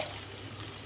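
Water poured into a pot of rice for cooking Egyptian-style rice, a brief, steady liquid rush heard up close and faint, with no voices.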